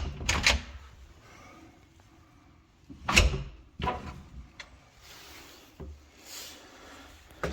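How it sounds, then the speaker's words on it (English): A busted-up Gardall safe door is worked open by a locksmith, binding as it moves: several heavy metallic thumps and clunks, separated by quieter scraping and handling noises, close and fairly loud. "Now when I open the door, oh, it's bound up."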